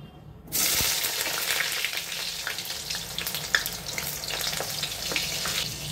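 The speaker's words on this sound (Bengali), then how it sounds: "সর্ষের তেল গরম হয়ে গেছে। মাছটা যতক্ষণ রেস্টে আছে আমি আলু আর বেগুনটা ভেজে নেব। প্রথমে বেগুনটা ভেজে নিচ্ছি।" Eggplant pieces dropped into hot mustard oil in a wok, a sudden loud hiss after a brief quiet start that settles into a dense, steady crackling fry nearby.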